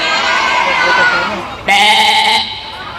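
A person's voice imitates a goat with a single loud, wavering bleat lasting under a second, following a stretch of lively talk.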